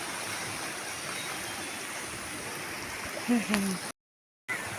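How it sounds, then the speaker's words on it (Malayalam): Fast-flowing stream water rushes steadily, a dense broadband roar, with a brief voice near the end before the sound cuts out for a moment. "ഇതുണ്ടോ, നിറച്ച് വെള്ളമുണ്ടോ, നല്ല ഒഴുക്കാ"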